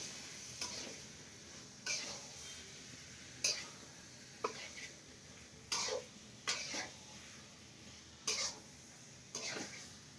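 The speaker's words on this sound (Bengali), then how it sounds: "মাংসটা ভালো করে কষিয়ে নিব।" Meat is stirred and braised in a pan, with quiet, regularly spaced scraping strokes of a spoon, roughly nine separate bursts over a faint background sizzle.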